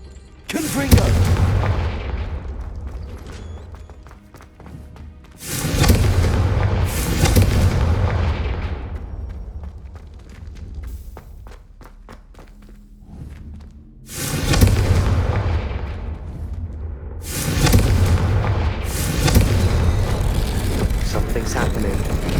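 Confringo fire spells cast in Hogwarts Legacy set off four heavy booming blasts in two pairs, each a deep explosive thump with a long rumbling decay, loud and close, separated by quieter stretches.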